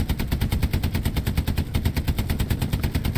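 A tank's bow-mounted machine gun fires at infantry in Hell Let Loose. It sounds as a loud, unbroken stream of rapid, evenly spaced shots with heavy low thump.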